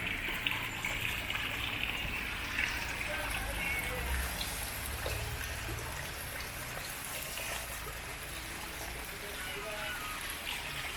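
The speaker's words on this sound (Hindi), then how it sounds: "यकीन करें इतना ठंडा पानी आ रहा है" Cold water runs steadily from a tap as pears are washed outdoors in hot weather, a constant close splashing trickle under a voice speaking.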